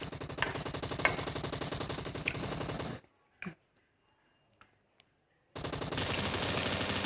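An AWM sniper rifle fires in a mobile battle-royale shooter. Sustained loud, rapid gunfire breaks off into near silence with a single sharp report, then heavy continuous firing returns, dense and close.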